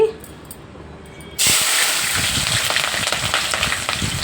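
Hot oil in a pan for Andhra-style mutton fry bursts into a loud, sustained sizzle after a quiet start, crackling steadily and close up with no voices.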